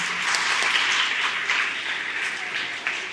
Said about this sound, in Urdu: اس بچے کے لیے تالیاں بجائیں آپ